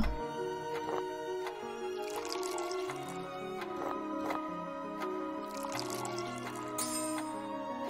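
Liquid poured out in the Clockwork Tales video game, a soft trickling pour that runs under steady, loud game music for several seconds.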